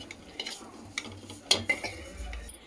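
Fried mint leaves scraped and stirred out of a pan onto a plate, with a few faint clinks of utensil on metal and a light sizzle, quiet and close.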